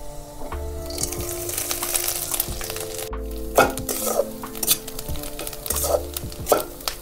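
Crushed green chilli and peanuts sizzle with garlic in hot oil, with a steady fry under repeated stirring scrapes and occasional clinks of a utensil against the pan, close and fairly loud.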